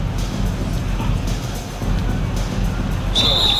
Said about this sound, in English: Shooting foul as the whistle blows.